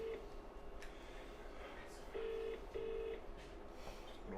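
A ringback tone on an outgoing phone call during a banquet, repeating in two steady bursts against a busy restaurant room with chatter and clatter in the background.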